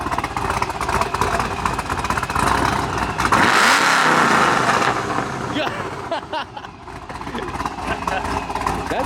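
Supercharged Audi S4 engine revving up in a loud, sustained burst that swells and then eases off, with background chatter among a group of car enthusiasts alongside other engines.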